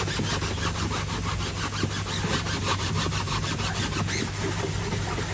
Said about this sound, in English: get one of these pen squeegees, and then just gently rub away